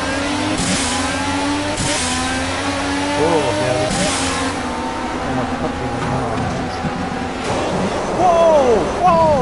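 Race car engines drone and rev in Project CARS on the first lap, a steady loud mechanical roar with rising whines near the end, under a speaking voice.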